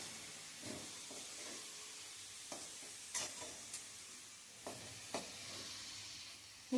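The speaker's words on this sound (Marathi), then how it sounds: "आता गूळ पूर्ण वितळेपर्यंत हे सतत हलवत राहायचे" Jaggery melting in a pan for sweet potato sheera is stirred steadily, a quiet soft sizzle under repeated light scrapes and taps of a spoon against the pan, close and faint.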